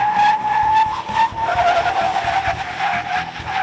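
An SUV braking hard during pavement testing at an off-road and on-road event, with a sustained tire squeal and skid over steady road noise, loud and continuous throughout.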